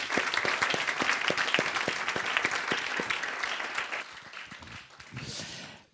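A conference audience applauds steadily and loudly, with dense clapping that fades out near the end as a voice begins.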